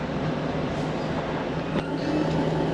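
A Class 150 diesel train's steady low engine rumble with a constant mechanical drone, idling close by at a station with no voices.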